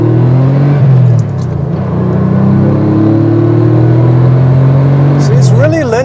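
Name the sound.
Porsche 964 Carrera accelerating on open road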